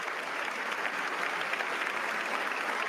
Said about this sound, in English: I'm surprised they're clapping for him